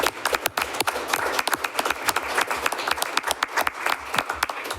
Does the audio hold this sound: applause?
yes